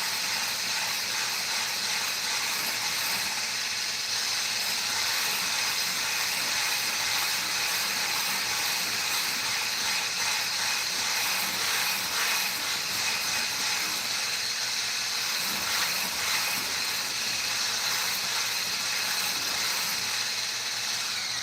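Electric mixer whipping egg whites for a tiramisu cake, a loud, steady high-pitched whir with a rattling mechanical texture that holds without a break.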